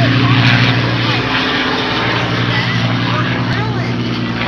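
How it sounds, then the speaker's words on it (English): A P-51 Mustang's engine drones loudly and steadily nearby, a continuous throaty roar with slight swells throughout. "Just the sound of that airplane is music to the ears."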